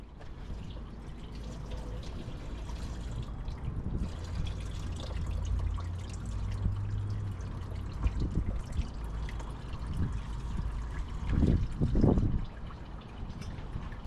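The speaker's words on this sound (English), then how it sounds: "once it cracks open, the coolant can squirt out" Coolant trickles and dribbles out of a Mitsubishi Lancer radiator as the cap is opened, a steady close liquid wash with a brief louder gush near the end.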